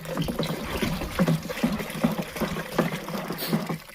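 Water trickles and gurgles steadily at close range through drip irrigation on a bitter gourd plot, a soft continuous flow with small bubbling pulses.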